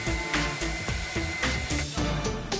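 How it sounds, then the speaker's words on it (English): A blow dryer roars steadily while drying a dog's fur during grooming, loud and close throughout with a pulsing, fluttering texture as the airflow is moved around. "then out came the blow dryer."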